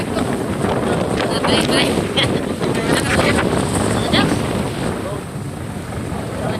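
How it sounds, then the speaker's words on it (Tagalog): Strong wind gusts across open rice fields on a rainy afternoon, roaring and buffeting the microphone in a continuous close rush, with a brief spoken word. "grabe lakas ng hangin"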